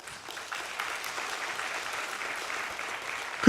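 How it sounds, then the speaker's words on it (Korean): A congregation at a Sun Moon University church Sunday service breaks into steady, even applause, a soft wash of many hands clapping at a distance that holds for over three seconds before a brief louder sound at the end. "이럴 때 박수 한번 치셔야 돼요"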